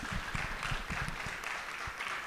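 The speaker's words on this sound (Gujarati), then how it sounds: "આ બધા છોકરાઓ સરસ નૃત્ય કરું, તાળીઓથી વધાવીએ એમને ફરી એક વખત" An audience claps for a children's dance at a temple cultural program. The applause is dense, steady and moderately loud, filling the whole stretch with overlapping claps and no talk.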